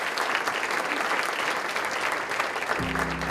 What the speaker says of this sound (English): let's give a round of applause for Sacred Heart and all of our sponsors today